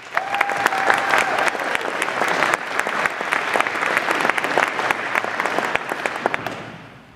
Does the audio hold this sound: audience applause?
yes